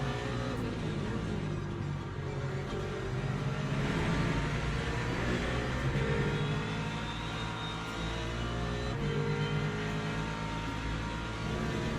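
Engines of LMP2 prototype race cars in the racing game Le Mans Ultimate at Monza, a steady loud high-revving drone with shifting gear tones as cars run side by side, no talk.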